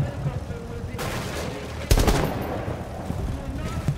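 Gunfire in a video game, bursts of shots with one sharp, loud report standing out over a busy, noisy background mix.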